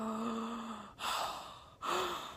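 Heavy breathing imitated by a voice: two quick, loud excited inhalations, each followed by a drawn-out breathy exhale, close to the listener.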